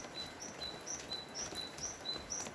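Birds chirp in short, high, repeated notes at an even pace, fairly faint, over a soft outdoor hiss.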